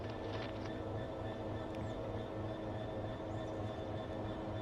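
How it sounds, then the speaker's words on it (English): Approaching train in the video game Train Sim World 4, a steady rumbling rail noise with a continuous low drone and faint clicking, no one talking. "I see a train coming towards us"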